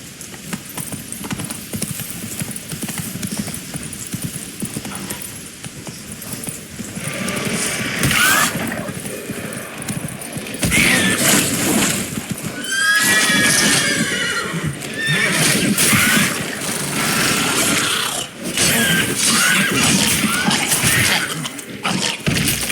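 Roach, the horse in The Witcher 3, trots with rhythmic clip-clop hoofbeats and lets out several loud, close neighs and whinnies over the game's ambient sound.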